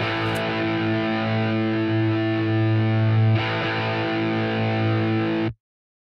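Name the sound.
low crunch electric guitar part playing root and fifth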